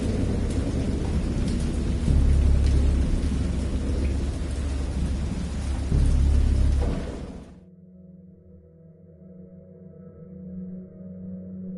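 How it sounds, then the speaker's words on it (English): A thunderstorm in the video game Dagon brings heavy rain and deep rolling thunder that swell loudly before cutting off abruptly, leaving a low, quiet drone. "I know that I heard pearls of thunder and other tones which nature utters only in her wildest moods"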